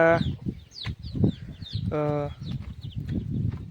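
Chickens on a village chicken farm cluck and call repeatedly close by, with a couple of longer harmonic crows or squawks rising above a busy flock murmur.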